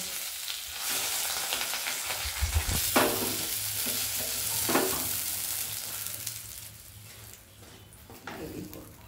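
Marinated rui fish frying in oil in a pan, giving a steady close sizzle and spatter with a few louder bursts of crackle, then easing slightly toward the end.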